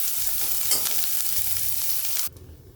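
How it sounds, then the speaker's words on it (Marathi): Onions sautéing in a pan over a low flame, a steady close sizzle with soft stirring scrapes, breaking off abruptly near the end into near silence. "कमी गॅसवर आपण कांद्याला परतून घेऊ"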